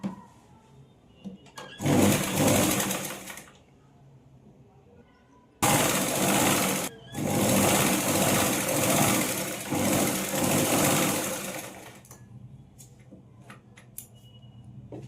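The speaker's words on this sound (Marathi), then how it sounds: "आता सरळ करून यावर दाबटीप टाकून घेऊया." Sewing machine running in two bursts while topstitching along folded fabric on a blouse piece: a short run, a pause, then a longer steady run with one brief break, close and fairly loud.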